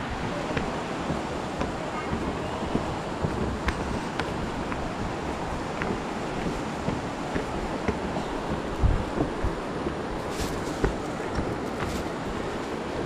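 Low, shallow water of a rural village river in the Philippine countryside, a steady broad outdoor wash with light wind buffeting, a few faint clicks, no voices.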